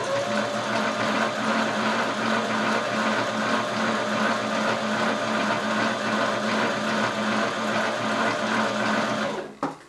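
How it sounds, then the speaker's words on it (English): A sewing machine stitches fabric in a fast, continuous mechanical whir that is steady and close, then stops abruptly at the end. "I'm just holding mine down and letting the sewing machine do its job."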